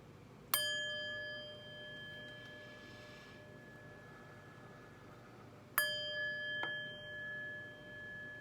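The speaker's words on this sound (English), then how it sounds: "let's chime" Chimes are struck twice, several seconds apart, and each strike rings out as a clear metallic tone with a long, slowly fading sustain in an otherwise quiet room.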